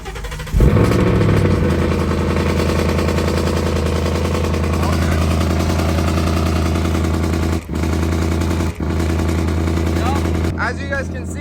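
A car modified to shoot flames cranks and starts, then runs with a loud, rough, popping idle up close, with a couple of brief dips and a few faint sounds near the end.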